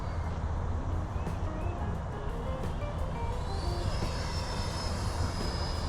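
An FMS Futura 64mm EDF radio-controlled jet flying overhead, its ducted fan giving a fairly faint, steady rushing whine that climbs in pitch toward the end of the pass.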